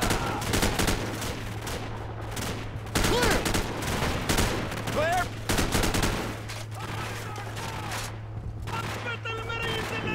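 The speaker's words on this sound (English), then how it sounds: "Do I really have to use the machine gun" Dense, loud machine gun fire in Call of Duty 4: Modern Warfare, with rapid bursts running through the whole stretch among other gunfire and battle noise, with speech mixed in.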